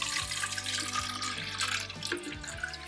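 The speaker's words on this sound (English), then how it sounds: "We will add some plain water to dilute that acid." Plain water pours from a tap into a plastic container, a steady splashing gush with a low resonant rumble, close and continuous for a few seconds with no speech.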